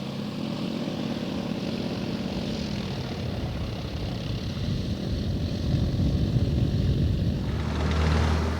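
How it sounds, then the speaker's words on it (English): A propeller aircraft comes in to land at busy Malmi airport (EFHF); a steady, loud engine drone fills the scene throughout and swells slightly toward the end. "the next aircraft is already coming in to land"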